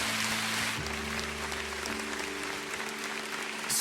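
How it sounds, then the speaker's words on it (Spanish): A congregation applauding during a Spanish-language church service, steady broadband clapping like rain throughout, with a low sustained organ or keyboard chord underneath. "¿Alguien puede darle un aplauso a Dios?"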